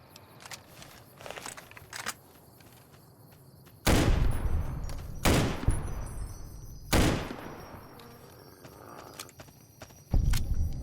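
Sniper rifle gunfire in the video game Fallout New Vegas: three loud, sharp shots with a long decaying tail at a few seconds' spacing, plus a fourth at the end, over quiet ambient game noise and faint footsteps.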